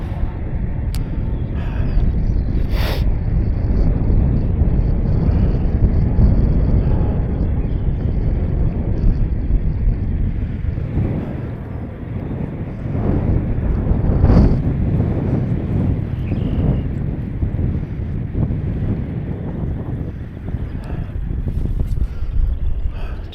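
Strong high wind buffets the microphone at the shore of Harrier Lake, Illinois, during a fishing outing, a loud continuous roar with gusts rising and falling throughout and no talking.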